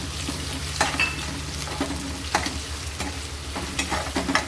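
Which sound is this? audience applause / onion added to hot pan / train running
onion added to hot pan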